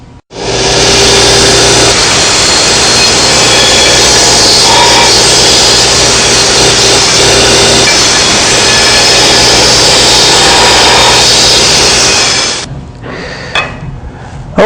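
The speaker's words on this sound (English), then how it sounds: "So I'm going to use the belt sander to knock these edges down." A belt sander grinds down the razor-sharp edges of steel tubing for a chopper frame, a loud, steady abrasive roar held continuously for about twelve seconds before cutting off, followed by faint clatter.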